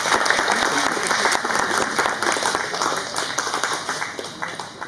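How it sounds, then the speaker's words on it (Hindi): A crowd at a Vidyapati Samaroh cultural event in Singapore applauds loudly and continuously as guests are honoured on stage. The dense clapping fills the whole stretch and thins slightly near the end. "तालियां बजती रहनी चाहिए।"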